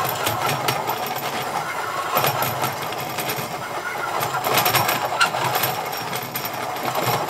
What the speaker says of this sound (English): I've drilled most of the way through. So in and out, so the shavings go through